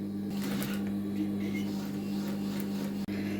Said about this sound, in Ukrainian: Я з'єднала і тепер сшиваю.